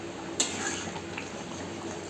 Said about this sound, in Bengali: আমার ডালটা কত সুন্দর দেখুন ফুটছে